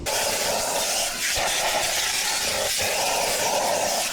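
A steady, close hiss of cleaner sprayed onto the floor mat of a Tesla car, running almost continuously with a brief break partway through.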